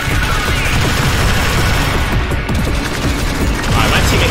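Teammates fire sustained automatic gunfire in the sci-fi shooter game Alien Swarm, a loud dense rattling fusillade running continuously throughout.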